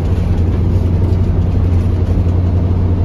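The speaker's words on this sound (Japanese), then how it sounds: "低音がバリバリ聞いてる V8 エンジン" Hino Profia Terra heavy truck with a V8 engine idles nearby, a loud, steady low rumble with a deep bass throb and no voices.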